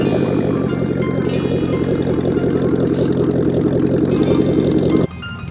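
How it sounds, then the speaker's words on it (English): A Nissan Altima with an exhaust leak idles steadily and loudly with a rough, puffing exhaust chatter running continuously, then cuts off abruptly near the end. "You got an exhaust leak."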